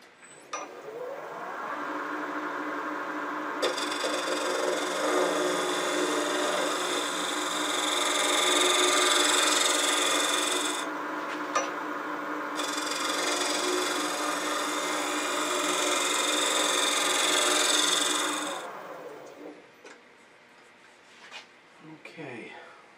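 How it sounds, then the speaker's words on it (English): Wood turning on a lathe with a skew chisel shaping a clamshell box, a steady high-pitched cutting hiss running nearly continuously for about twenty seconds with two short pauses, then fading, with someone talking over it. "I'm going to just take my skew and just profile that a little bit"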